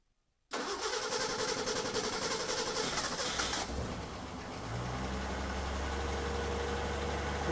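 A 1963 Ford Econoline pickup with a newly fitted carburetor cranks and catches, roaring loudly at first, then dropping into a lower steady idle that runs on close by.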